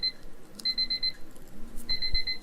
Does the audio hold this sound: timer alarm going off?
yes